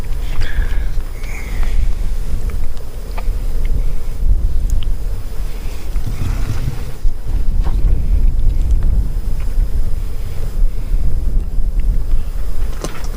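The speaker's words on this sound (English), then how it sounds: "It's windy." Strong wind buffets the microphone in continuous rumbling gusts, loud and close, with no other distinct sounds, on the Arroyo Trail in the Organ Mountains, New Mexico.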